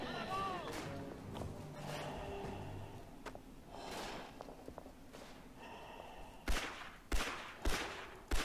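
RSC 1917 semi-automatic rifle fire in Battlefield 1 gameplay on the Verdun map, several sharp, loud shots spaced about half a second apart near the end, over busy battlefield noise and distant gunfire.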